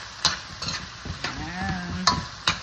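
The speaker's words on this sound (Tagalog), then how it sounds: "lagay natin yung patatas natin, guys" Potatoes dropped into a hot frying pan, crackling and sizzling up close with several sharp clacks and scrapes of a utensil, and a brief rising squeak in the middle, no one talking.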